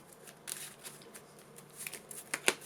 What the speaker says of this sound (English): Shuffle that up.